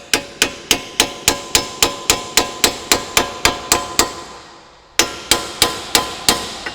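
Hammer tapping a spline into place while installing dual rate coilover springs on an S550 Mustang strut: sharp metallic strikes in a steady, rapid series, then a brief pause and a second run, loud and close.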